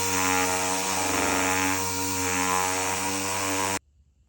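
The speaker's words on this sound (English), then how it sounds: "we're going to get the DA out with some 320 and we're going to sand it smooth" A random orbital sander with 320-grit paper hums and buzzes steadily up close on textured plastic, its droning tone wavering slightly as it works, then cuts off abruptly to silence.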